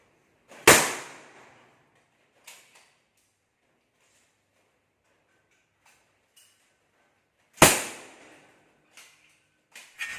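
A high-pressure nail gun fires into a ceiling frame during ceiling installation, two sharp loud cracks spaced several seconds apart with faint ticks and clicks between them; no talk.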